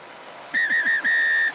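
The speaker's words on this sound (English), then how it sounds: "we hear the halftime whistle by the referee" A rugby referee's halftime whistle at a Leinster v Ulster match, a loud shrill tone in two bursts, the first broken into short trills and the second held longer, standing out over a low crowd murmur.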